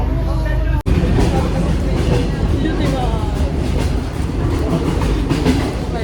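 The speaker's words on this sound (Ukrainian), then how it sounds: "Це новий поїзд." A new passenger train out of Lviv rolls along with a steady loud rumble and rhythmic clickety-clack from inside the carriage, with a brief sharp dropout near the start and voices talking over it.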